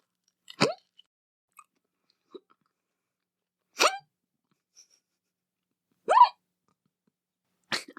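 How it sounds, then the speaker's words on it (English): Four sharp, separate hiccups spaced a few seconds apart after eating hot wings with blue cheese, loud and close with short silences between them. "I have the hiccups immediately."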